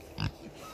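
A pig named Penny lets out a single short, close grunt while nosing at a foot on a farm walk, with quiet outdoor ambience around it.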